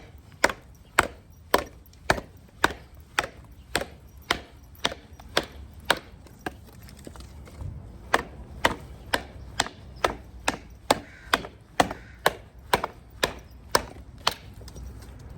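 A Viking warrior hybrid knife chops through a log in steady, evenly spaced blows, about two dozen sharp close wooden thwacks with a brief pause midway, no talking.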